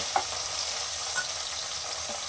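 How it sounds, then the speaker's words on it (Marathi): Small onions fry in oil in a kadai with a steady, moderately loud sizzle and a few faint stirring clicks, no voices. "आता त्या कढईमध्ये तेल टाकलं आहे आणि हे छोटे साईजचे कांदे टाकले आहे"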